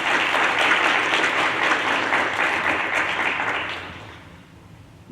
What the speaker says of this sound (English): let's give our parents a round of applause as a thank you for all the work they've done to help us get here